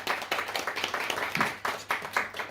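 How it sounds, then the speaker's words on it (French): A small audience at a literary conference gives a round of applause, with a thin, uneven patter of hands clapping in irregular bursts at moderate volume. "je vous demande de les applaudir"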